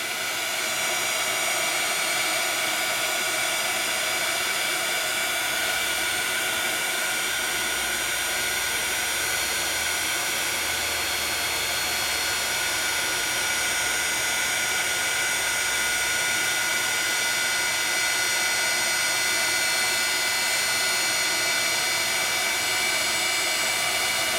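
Heat tool blows steadily at close range to melt embossing powder on a card, a loud continuous hiss and whir that stays unchanged throughout.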